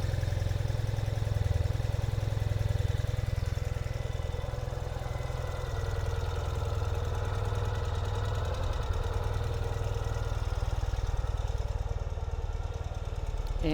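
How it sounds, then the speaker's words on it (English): A 2020 Ural Gear Up sidecar motorcycle with dual stainless steel exhaust idles in neutral, holding a steady, close, low rumbling putter with no talk over it. "we can start the bike."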